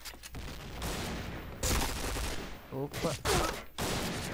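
Automatic weapon fire in an online first-person shooter crackles in rapid bursts, loud and close, broken by short gaps, with a player talking briefly over it.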